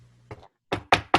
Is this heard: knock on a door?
yes